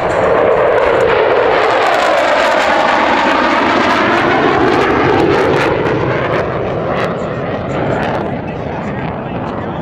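Modern military strike jets with turbofan engines roar past in tactical formation at an airshow, a loud sustained jet rumble and whoosh filling the whole stretch, slowly easing off near the end.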